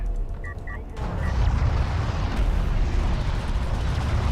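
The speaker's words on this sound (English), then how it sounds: "Cruise missiles finally coming out" Cruise missiles launching and exploding in the real-time strategy game Homeworld: Deserts of Kharak: a loud, dense rumbling blast that swells after a brief lighter opening and keeps roaring steadily to the end.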